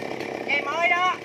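A chainsaw engine revs up, its rising, wavering whine close by, as a worker prepares to cut down a tall palmyra palm tree; a voice talks over the motor throughout.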